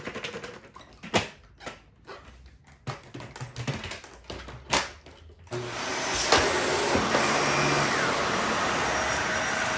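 Shark vacuum cleaner running on a hard floor: scattered taps and knocks first, then the motor kicks in at a steady, loud whirring drone that continues to the end.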